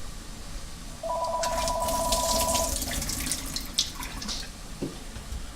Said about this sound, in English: I am going to drain the water of the olives because that's a little too wet